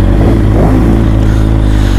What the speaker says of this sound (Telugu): మా ఎగ్జాస్ట్ మాత్రం పిచ్చెక్కిస్తుందప్ప